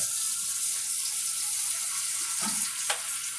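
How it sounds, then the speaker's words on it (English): Tap water rushes steadily into an empty pan, a continuous hiss with a couple of small clinks near the end and no talk, as the pan is filled most of the way. "this is a pan, just an empty pan, that I'm going to fill with water most of the way"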